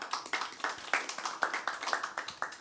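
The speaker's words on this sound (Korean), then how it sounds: "큰 박수 보내주십시오." Sparse applause from an audience at a Korean labor and jobs forum, individual claps landing in an uneven rhythm, moderately close and fairly quiet, with no one talking over it.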